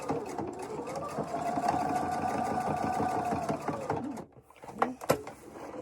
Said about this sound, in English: we're just making sure that those seams don't come undone, which is why we're doing the back stitch